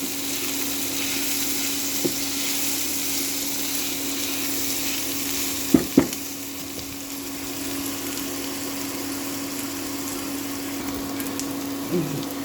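Semolina noodles fry in a pan with a steady, moderate sizzle that runs throughout, broken by a couple of sharp clinks from a utensil midway.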